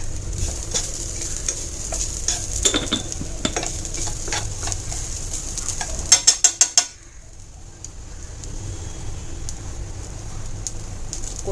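Spiced squid masala mixture is sautéed in a pan, with a steady low sizzle and scraping stirs, a brief burst of sharp rattling clicks midway, then quieter frying.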